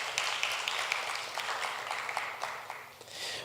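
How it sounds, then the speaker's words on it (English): A crowd applauds the Ministry of Tourism at a youth tourism congress on Nevis, a steady wash of many hands clapping at moderate loudness, fading slightly near the end. "round of applause to the Ministry of Tourism"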